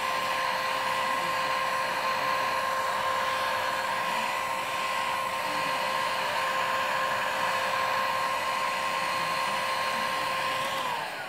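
A heat gun blows steadily, warming acrylic paint, with a constant loud whooshing hum and a high whine that holds for about eleven seconds before it cuts off at the end.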